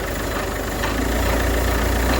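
A car engine is revved in first gear, giving a loud, close, steady engine roar that holds for a couple of seconds with no talk over it.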